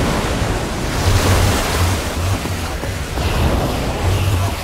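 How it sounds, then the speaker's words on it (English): In the Minecraft Story Mode video game, a machine kicks out a loud, continuous rush of gushing water, a broad steady roar with surging swells and no talk over it. "I don't know how much water this thing is going to kick out"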